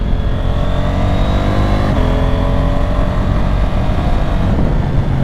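Motorcycle riding on damp roads on Michelin Road 6 tires, the engine droning loudly and steadily up close with a rising then easing pitch, wind rushing over it throughout.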